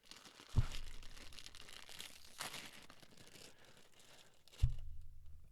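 A plastic bag of Cadbury Rainbow Mini Eggs is torn open by hand in two sharp rips, with crinkling of the wrapper in between, close and fairly quiet.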